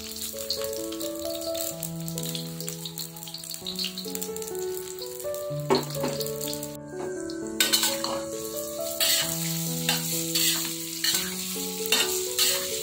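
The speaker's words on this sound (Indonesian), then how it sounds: "Tahu dan tempenya digoreng dulu ya teman-teman sampai matang." Steady oil sizzle and crackle of tofu and tempeh frying, with occasional stirring clatter, under a melodic music track playing throughout.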